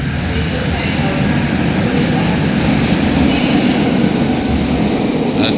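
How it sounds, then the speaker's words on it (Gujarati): A train pulls out of a station platform, giving a loud, steady rumble and rolling wheel noise that fills the whole stretch, with faint clatter on top and a voice talking over it. "એમાંથી ટ્રેન નીકળી ગઈ જો"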